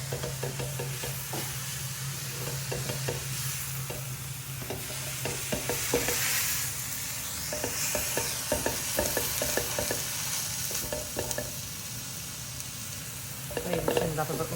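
Egg noodle stir-fry sizzling in a pan while a utensil stirs it, with rhythmic scraping and clacking over a constant frying hiss, close and fairly loud throughout.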